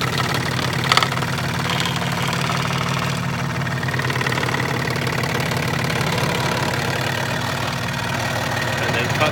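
Scroll saw blade cutting through material, including spinning the workpiece around for a tight turn; a steady, loud machine drone with rhythmic buzzing runs continuously throughout.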